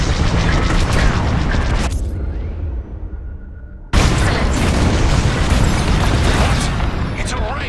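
Bomb explosions in Star Wars Squadrons: loud, heavy booming blasts rumble continuously, cut by a sudden near-silence, then a fresh massive blast erupts and keeps roaring, with voices talking over the action.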